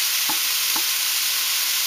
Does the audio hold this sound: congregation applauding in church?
no